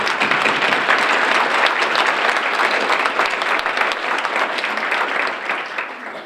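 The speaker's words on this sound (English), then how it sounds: "Round of applause." Sustained audience applause at a high school academic awards ceremony, dense steady clapping from a large crowd that holds strong and begins to taper near the end.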